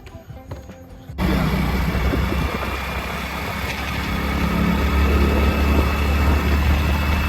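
Hero Splendor motorcycle engine starting up after a brief quieter moment, then a steady close idle and running putter with a slight rise toward the end, no voices.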